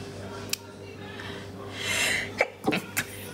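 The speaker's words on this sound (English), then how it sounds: "I'm gonna sneeze" A single sharp sneeze bursts out near the end, after a rising intake of breath, with a brief cough-like catch close by, heard up close indoors over a quiet room hum.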